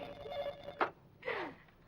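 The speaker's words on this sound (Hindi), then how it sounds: "फोन की घंटी।" A telephone bell rings in two short bursts separated by a pause, fairly clear against a quiet hum.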